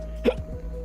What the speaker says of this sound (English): Oh no, hiccups.